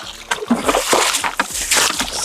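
Water is poured and splashes repeatedly while fish are being caught, irregular sloshing bursts close by with short gaps between them.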